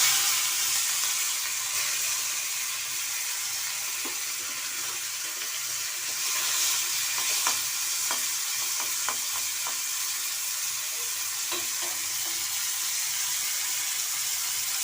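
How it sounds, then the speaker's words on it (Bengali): Shrimp fry in hot mustard oil in a wok with a continuous moderate sizzle. Scattered sharp ticks and spatters stand out now and then against the steady hiss. "চিংড়ি মাছ ভাজার জন্য একটা কড়াই নিয়ে নিয়েছি"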